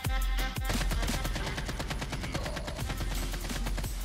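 Hip-fire gunshots in the mobile shooter game Call of Duty Mobile ring out as a rapid, loud automatic burst, firing steadily for about four seconds with no talking.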